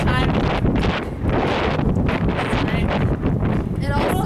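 Wind buffeting a microphone outdoors, a loud, ragged low rumble with gusty swells and dips over a few seconds.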